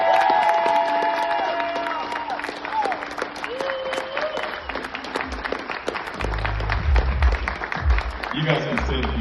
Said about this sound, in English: I want to give a huge round of applause